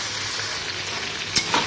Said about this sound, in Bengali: মাংসগুলো সব দিয়ে দিয়েছি তেলে, ভেজে নেব।